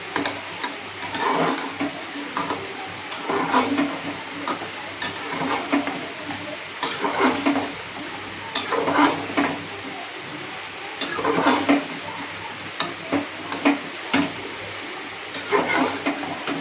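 Mutton curry being stirred in a pan on the stove, a spoon scraping and knocking in an uneven repeating rhythm over a steady bubbling sizzle, close and moderately loud, with no one speaking.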